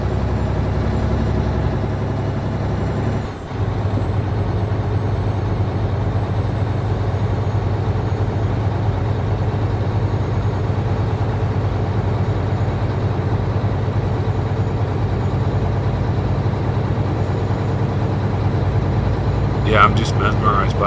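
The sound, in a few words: truck engine running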